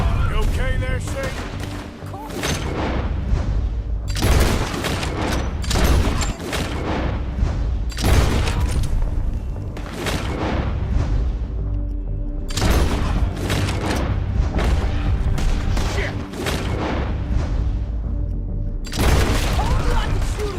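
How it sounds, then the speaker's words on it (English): Rapid volleys of gunfire in the Red Dead Redemption 2 video game, loud bursts of repeated shots in several clusters with brief lulls between them, mixed with game sound and occasional voices. "Told you I could shoot a gun, didn't I?"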